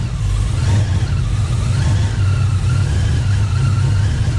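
Car engine idling steadily after a newly installed Whipple supercharger, a loud, continuous low rumble with a faint whine layered above, close and unbroken throughout.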